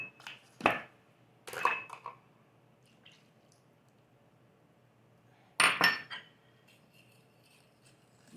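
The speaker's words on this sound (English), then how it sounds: "Now I'm going to stir this all around and mix up all the flour and sugar and salt in with that 1 stick of butter." Flour, sugar, salt and a stick of softened butter stirred in a bowl for lemon brownies: separate scraping, clinking strokes with quiet pauses between them.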